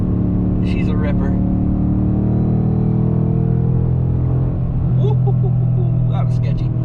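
An S550 Mustang with a ported intake manifold and JLT cold air intake, engine droning loudly and steadily at sustained revs, a continuous near rumble with a brief swell toward the end.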